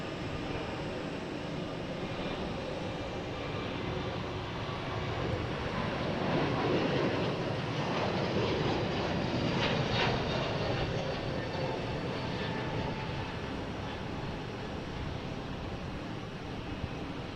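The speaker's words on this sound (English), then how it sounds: "Next taking off is FedEx in A300, heading to Memphis." A FedEx Airbus A300 jet taking off, a steady broadband roar that swells toward the middle and eases off again, heard from some distance with no talking.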